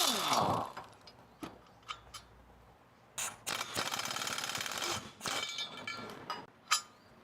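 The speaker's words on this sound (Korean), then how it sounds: "고객님 보여드리기 위해서 사진도 좀 찍어 놓고 하겠습니다" A camera shutter clicks several times while car parts are photographed during imported-car maintenance, with sharp close snaps scattered among clattering workshop handling noises.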